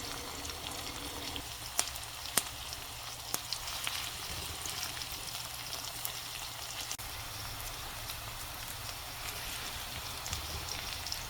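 Green chilies and onions fry in a pan for a bitter gourd dish, giving a faint, continuous hiss and crackle like light rain, with a few sharper pops scattered through.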